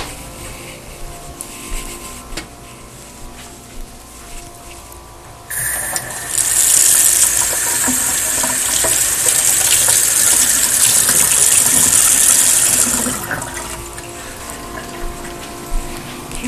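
Water runs from an indoor tap in a steady, fairly loud gush for about seven seconds, starting abruptly and stopping cleanly, with quiet room sound before and after.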